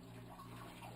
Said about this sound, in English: drain as much water as I can,